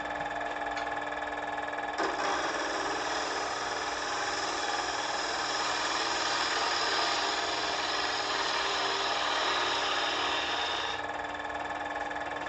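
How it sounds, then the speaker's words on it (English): A wood lathe spins steadily as a segmented wooden vessel is faced off, giving a constant whirring drone with a faint tool scraping over about twelve seconds, quiet and without talk. "And once I get it in the chuck, then I'll face off this other side and start working on the tenon"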